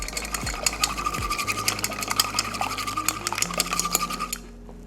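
Eggs being beaten in a bowl for trifle custard, rapid rhythmic metallic clinks of a whisk or fork against the bowl, close and continuous, with a low hum underneath and no talk.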